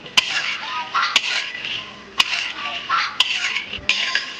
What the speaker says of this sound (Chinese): 把瓜子仁仁到锅里炒一下